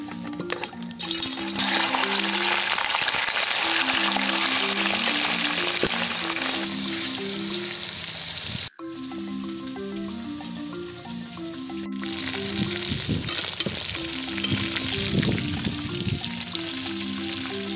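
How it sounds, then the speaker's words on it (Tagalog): Native chicken pieces lightly frying in a pan, a steady soft sizzle running throughout, overlaid by a repeating musical jingle and occasional clinks. "bahagyang pito lang muna sa ating manok. Papulahin lang muna natin."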